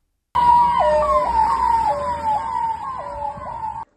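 A ventilator-equipped ambulance from a tribal hospital in Attappady sounds its siren, cycling steadily between high and low wailing tones, loud and close, with no talk over it.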